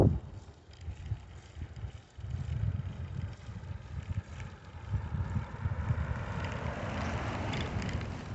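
Bicycle riding around a neighborhood late in the day, a steady low rumble of tires and wind buffeting the camera mic, continuous and fairly loud throughout with no talking.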